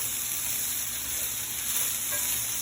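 Potatoes fry in hot oil in a pan, giving a steady, close, continuous sizzle and crackle with no talking.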